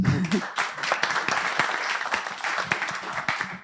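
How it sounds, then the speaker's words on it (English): Brief applause from a meetup audience welcoming a panelist at a panel discussion in Amsterdam, with a voice speaking over the dense clapping throughout. "So give him an applause."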